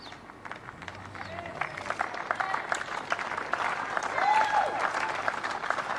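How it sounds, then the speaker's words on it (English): A sizable Australian audience at the women's singles final of the 2016 World Bowls Championships applauds and cheers, the clapping building and swelling, with a few scattered shouts. "Big cheer from quite sizable Australian audience here"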